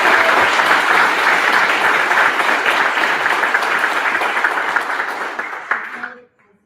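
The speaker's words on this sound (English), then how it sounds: "If I could get another round of applause for our leaders" A loud, dense round of audience applause at an evening panel discussion on housing, transportation and climate in Sacramento, sustained and then tapering off and stopping abruptly at the end.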